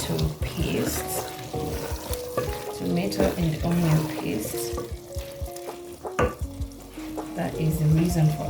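Okra added bit by bit to a sizzling tomato and onion paste for a Ghanaian okra fish stew, with loud close frying hiss and stirring scrapes, pieces dropping in, and a voice talking over parts of it.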